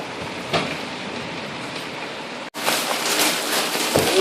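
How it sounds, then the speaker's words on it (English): Heavy rain pours down during a tropical storm, a dense steady hiss that swells louder partway through as the downpour intensifies, with no talking. "Oh, it's getting heavier, guys."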